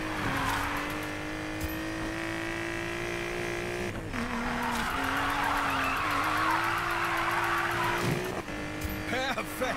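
Need for Speed Payback car drifts with a long, loud, continuous tire squeal over a droning engine whose pitch wavers as it revs, with a short break midway. A voice talks over it.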